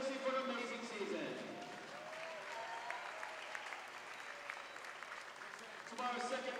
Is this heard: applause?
yes